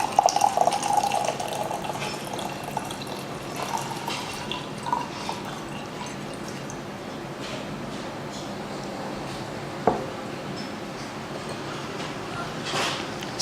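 Tea poured from a gaiwan with a built-in filter, a continuous close trickle and splash of liquid with a few faint drips and light clinks, steady throughout.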